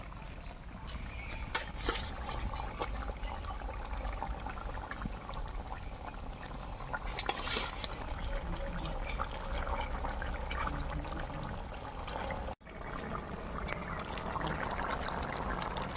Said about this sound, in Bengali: ঝোলটা ফুটে গিয়েছে এখন দেবো ভেজে রাখা মাছ